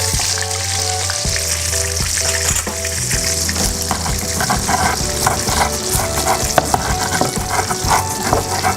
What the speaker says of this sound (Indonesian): Ini saya balik tempenya karena sudah kecoklatan.